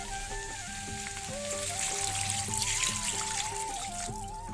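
Water poured into a pan of fried chicken and vegetables makes a soft, continuous splashing hiss beneath prominent background music, growing slightly fuller midway through.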